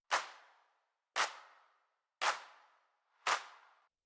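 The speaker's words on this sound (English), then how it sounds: "I also added a clap sample from Splice" A clap sample from Splice for a funky dance track is struck four times, spaced about a second apart, each hit sharp and bright with a short decaying tail, heard alone and fairly quiet.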